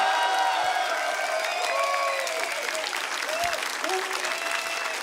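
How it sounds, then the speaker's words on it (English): An esports audience at IEM Katowice 2024 StarCraft II applauds steadily, a dense wash of clapping with a few voices calling out and chanting over it. "You've got the applause"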